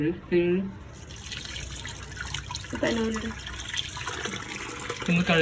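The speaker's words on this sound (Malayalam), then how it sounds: "ഇത് കഴുകി നോക്കട്ടെ കേട്ടോ" Fish being washed under running water, with splashing and dripping close by, while a person talks over it in bursts.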